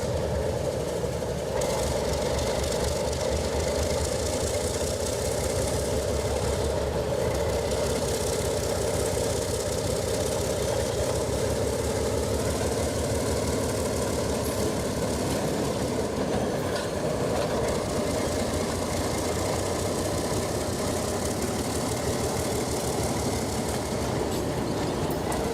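An Alco diesel train makes a reverse move down the main line toward the yard, its engine rumbling loudly and continuously with steady rail noise, close by.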